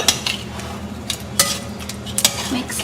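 A metal spoon stirs sugar into a drink, clinking and scraping against the cup in a quick irregular run of sharp taps over a low background hum.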